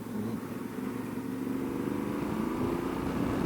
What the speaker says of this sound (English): even kind of revving hard there, there's not much vibration at all from the engine